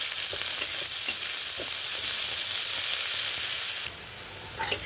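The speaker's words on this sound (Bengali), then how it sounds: "এই যে পেঁয়াজ মোটামুটি ভাজা হয়েছে, একটু লাল লাল ভাব এসেছে, ঘ্রাণও আসছে।" Chopped onions with garlic and bay leaf frying in hot oil give a loud, steady close sizzle with faint scraping stirs, dropping suddenly in level near the end.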